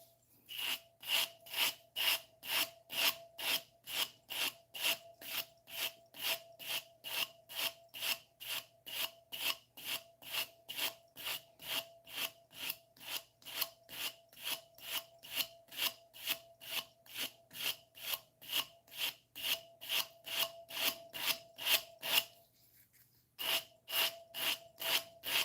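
Woodworking tool cutting back into a dulled, chipped edge to reform it: rapid, even rasping strokes repeat steadily for over twenty seconds, fairly faint and close, with one short pause near the end and no talking.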